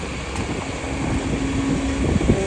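Strong, cold wind buffets the microphone outdoors in Puerto Madryn, Argentina, a steady broadband roar with gusty surges throughout, no voices.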